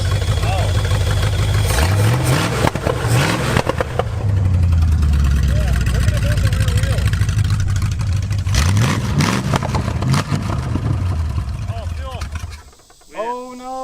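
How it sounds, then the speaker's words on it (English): The engine of a revived vehicle runs rough and revs up and down repeatedly, loud and close. People talk over it throughout, and near the end it drops to a near stop. "There's nothing coming out of the exhaust, except for flames when we rev it."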